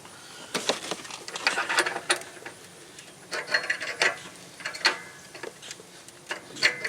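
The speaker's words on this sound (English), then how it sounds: "I'm kind of twisting a little bit, removing it, twist a little bit, removing it" A socket wrench works an upstream oxygen sensor loose on a Toyota Matrix, giving irregular bursts of metallic clicks and ratcheting ticks in short spurts with brief pauses, close up and moderately loud.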